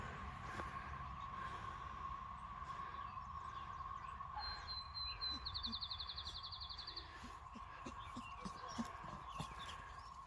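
Swallows near their nests give a rapid, high twittering trill in the middle of the passage, over a steady hum and scattered soft knocks.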